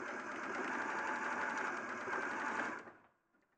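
A sewing machine runs a zigzag stitch, a close, steady buzzing rattle of the needle for nearly three seconds before winding down and stopping.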